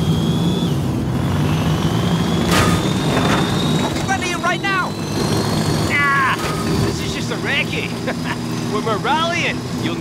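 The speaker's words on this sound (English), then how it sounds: "Follow the chopper." A helicopter in the Forza Horizon 5 racing game thrums loudly and continuously with a low rotor chop and engine whine, mixed with car engine noise and voices talking over it.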